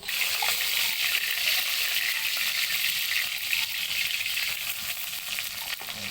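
Dried red chillies and black cumin seeds frying in hot oil give a steady, close, dense sizzle with faint crackles throughout, as the tempering for a rohu fish-head jute-leaf jhol begins.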